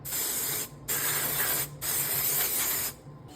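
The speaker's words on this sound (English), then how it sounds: "We take this release, which makes it so that your parts do not stick to your tool, and we spray it down." Three sustained hissing bursts of mold release agent from an aerosol spray can onto a carbon fiber part mold, each a second or so long with brief breaks between, close and loud.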